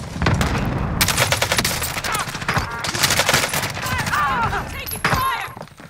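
Distant gunfire in a battle-royale style video game crackles in repeated bursts and scattered shots, while players talk over the shooting.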